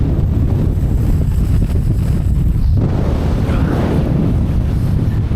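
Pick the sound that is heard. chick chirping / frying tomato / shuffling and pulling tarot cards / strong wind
strong wind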